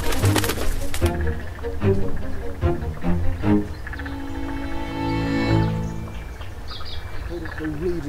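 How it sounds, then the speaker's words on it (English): A grey fantail gives a series of short, creaky, chirping notes outdoors in Australia, partly overlapped by a voice in the first seconds, then repeating more clearly on its own. "That'll be a grey fantail."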